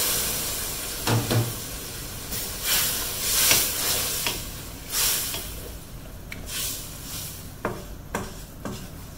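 Water poured into a hot pan of stir-fried prawns in oyster sauce, giving bursts of steamy hissing and sizzling that swell and fade in several waves, with occasional stirring scrapes, close and moderately loud.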